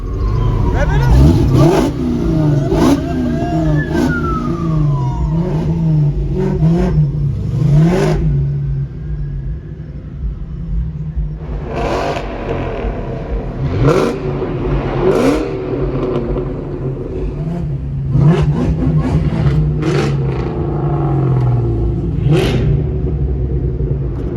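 A Ford Mustang with a muffler delete revs repeatedly in loud, sharp bursts over a steady rumble, with people talking throughout, at a Shelby meet in Las Vegas.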